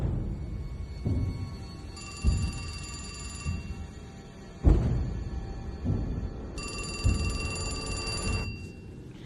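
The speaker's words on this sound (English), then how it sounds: "The phone rang." Old-style telephone bell rings in two distinct bursts of shrill metallic trilling, separated by a few seconds, over a steady low background rumble with occasional thumps.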